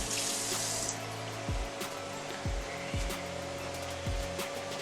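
Running water from an outdoor tap or hose splashes steadily while hands are rinsed before kebabs go on the grill, continuous flow with a few low bumps and no talking.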